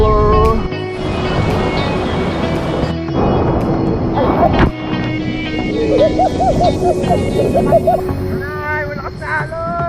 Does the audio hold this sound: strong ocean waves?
yes